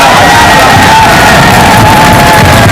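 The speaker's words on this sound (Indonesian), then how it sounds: "Tepuk kita tangan." A studio audience at a Sundanese family quiz show claps and cheers in a loud, dense, steady roar with shouts mixed in, lasting the whole stretch.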